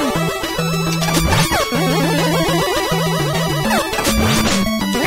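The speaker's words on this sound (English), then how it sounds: "I don't like the sound of death lasers." Death lasers fire in the Mega Man Maker video game as a dense, continuous run of bright electronic chiptune zaps and tones, loud and layered throughout.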